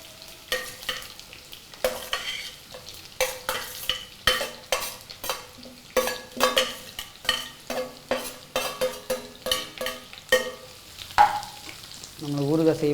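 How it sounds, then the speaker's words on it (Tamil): Chopped bitter gourd fries with mustard seeds in a pan for a Kerala-style pickle, a soft sizzle under frequent scraping stirs of a spoon against the metal, with a few louder clatters near the end. "கடுகு வச்சுட்டு உடனே பாவக்காய் நறுக்கி வச்சு பாவக்காய் போடுறோம்."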